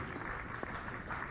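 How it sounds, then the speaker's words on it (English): An auction crowd applauds the winning £300 bidder at a football memorabilia charity event, a steady wash of clapping filling the whole moment. "So give him a round of applause,"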